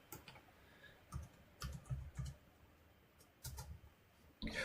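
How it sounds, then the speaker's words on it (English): Light typing on a computer keyboard, scattered quiet clicks in short bursts with pauses between, faint and close against a near-silent background. "let me type that in"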